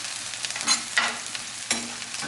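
Shallots and garlic frying in a pan for shrimp scampi give a steady, close sizzle, broken by a few soft scrapes and clicks as the mixture is stirred, with no voices.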